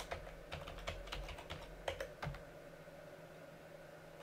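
Someone types on a computer keyboard to log into an Ubuntu Server 14.04 machine. Quick, irregular key clicks come close and fairly quiet for about two seconds, then give way to near silence.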